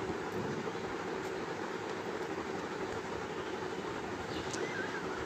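A train at a children's park, Shishu Mela in Shyamoli, Dhaka, gives a steady, even rumble with clattering noise, faint and continuous throughout.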